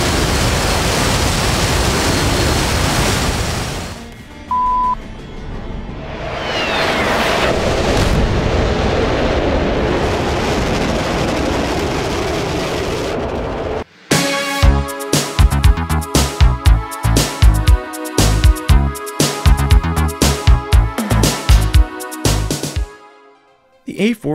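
A-4E releasing bombs in DCS: a long roaring rush of wind and engine noise, then a rapid series of sharp, loud bomb blasts and impacts in irregular bursts before fading to quiet.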